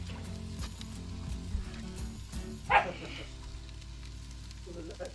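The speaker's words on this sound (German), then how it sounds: "Hört ihr die hier im Hintergrund bellen und kläffen?" Dogs bark and yap in the background of a kitchen, with one sharper yelp rising above a low steady hum. The barking is faint and brief.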